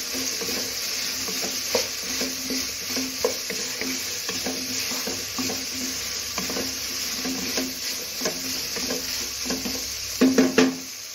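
A jackfruit seed and carrot stir-fry, seasoned with crushed fennel and garam masala, is stirred in a pan. It gives a steady soft sizzle with repeated scraping strokes, and a louder cluster of scrapes comes near the end.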